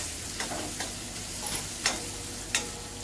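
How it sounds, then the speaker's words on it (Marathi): Masala spices frying in oil in a pan while being stirred, a soft steady sizzle broken by a few light scrapes of the spoon, fairly quiet and without voices. "आता मसाला आपण चांगला परतून घेऊया।"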